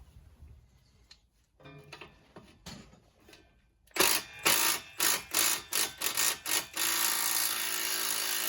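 Several short, sharp bursts of an impact wrench hammer at a seized front sway bar end link on a Honda Pilot, the rapid pulses coming closer together before a longer steady run, loud and close.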